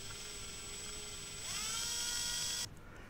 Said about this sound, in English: I'm going to draw a really small hole right smack dab in the center with a small drill bit.